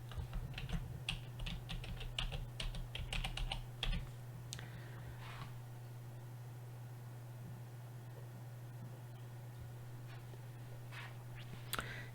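Quick, light key clicks on a computer keyboard come in bursts, then thin out to occasional taps over a steady low electrical hum in a quiet room.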